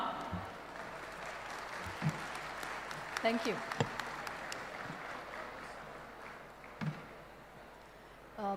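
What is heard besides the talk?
audience applause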